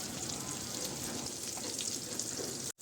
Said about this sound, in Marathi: सर्व तुकड्या आहेत त्या मी गरम तेलामध्ये टाकलेल्या आहेत फ्राय करण्यासाठी